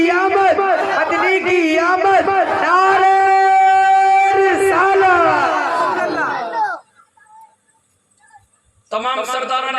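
Large crowd at a religious gathering celebrating Rabi ul Awwal chants loudly in unison with sustained, droning voices, falls almost silent for a couple of seconds, then starts chanting again.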